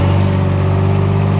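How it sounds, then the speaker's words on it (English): Idling engine of a Polaris 330 Magnum 4x4 automatic four-wheeler, a steady close-up low drone with a fast even putter and no change in pitch. "That's a Polaris 330 Magnum 4x4."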